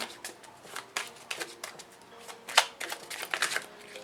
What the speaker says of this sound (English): Sometimes with the shuffling, it could take a while.